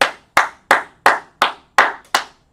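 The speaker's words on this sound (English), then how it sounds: "So let's clap it up for him." Seven sharp hand claps land at an even, steady pace, each a loud close smack that fades quickly, with quiet gaps in between and no talking.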